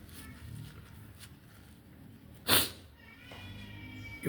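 A cat lets out a single loud, drawn-out meow midway, with quieter shuffling and faint household noise around it.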